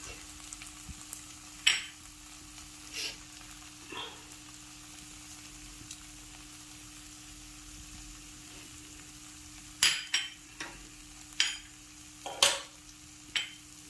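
Spices fry with tomatoes in a pan for a katla fish curry, a faint, even sizzle with scattered clicks and scrapes of stirring, clustering toward the end.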